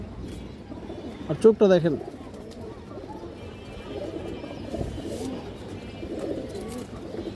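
A male pigeon of a boot-beaked fancy breed coos in low, murmuring bursts close by, with a brief louder flurry early on over a busy background, while someone talks over much of it.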